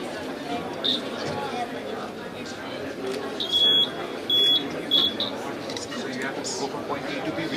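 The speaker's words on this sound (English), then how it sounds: "Go from point A to B without touching the wire. Otherwise, it's a buzzing sound." A buzz wire game's buzzer sounds in a few short electronic beeps as the wire is touched, over a steady background of crowd chatter in a workshop room.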